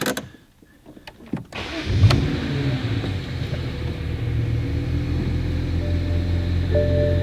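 A BMW 1M Coupe engine starts warm and settles into a steady, low idle rumble, heard close up inside the car with faint clicks before it catches.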